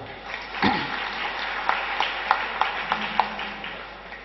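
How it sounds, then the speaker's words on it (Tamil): Audience at an astrology anniversary function claps in a thin, scattered round, a handful of distinct slaps standing out over faint background clapping, with a brief sharp noise near the start. "பலத்த கரகோஷம் கொடுக்கலாம்"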